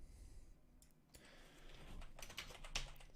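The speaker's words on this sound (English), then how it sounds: "We're gonna type it as we go." Fingers type steadily on a computer keyboard, producing a continuous run of close, light clicks and taps over a quiet room hum with no talking.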